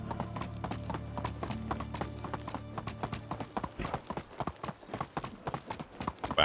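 Horse hooves clip-clopping as a rider travels in Medieval Dynasty, a steady rhythmic gallop of sharp hoof strikes that grows quicker and louder toward the end, heard over a low background hum.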